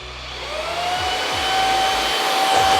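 A steady, whining motor hum with a rising pitch as it spins up, fairly loud and continuous, from an ORFELD V20 cordless stick vacuum running on its low setting.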